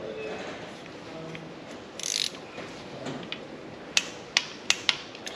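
Torque wrench tightening a glow plug to about 15 newton metres, with faint mechanical creaks and scraping followed by a few sharp, close clicks near the end; quiet background, no speech.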